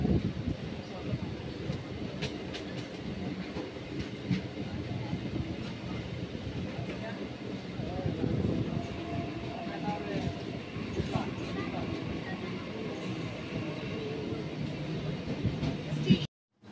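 A moving train between Bardhaman Junction and Boinchi, heard from inside as a continuous rolling rumble with faint wheel clatter, while passengers chatter indistinctly in the background.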